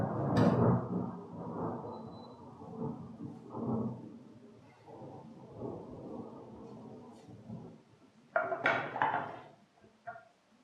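Thunder rolls and rumbles through a storm during outdoor woodworking on a table build, several deep swelling booms spread across the stretch with a sharper crack near the end.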